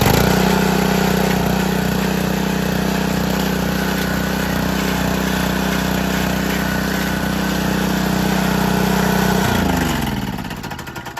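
A small pull-start tiller engine runs after a cold start with a steady, rhythmic chugging idle at close range, then winds down and stops near the end.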